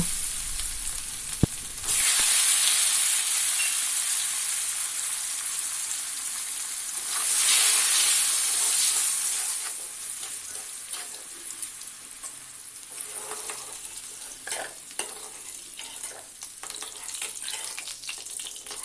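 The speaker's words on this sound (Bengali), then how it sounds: "তারপর ওই তেলে কেটে রাখা গাজরের টুকরোগুলিকেও ভেজে নেব" Carrot pieces dropped into hot oil, the same oil just used to fry potatoes, for a winter vegetable and lentil khichuri: a loud, bright sizzle bursts up, eases, flares again, then settles into a quieter crackle, with no talk.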